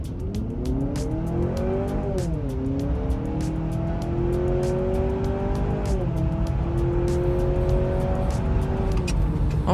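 2023 Honda CR-V Hybrid launching hard in sport mode, engine drone rising in pitch with stepped, simulated shift dips, loud and close, with repeated ticking clicks over the steady road rumble.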